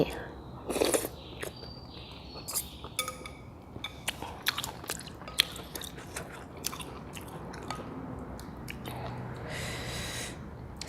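Someone bites and chews crispy fried pork from a hot noodle soup with pork offal, close to the mouth, with crunchy bites and snorts over steady background noise.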